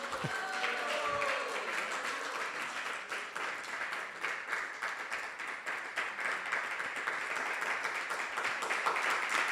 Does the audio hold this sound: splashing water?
no